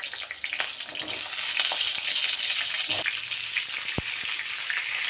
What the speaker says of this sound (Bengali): এখন পটলগুলি ভেজে নেব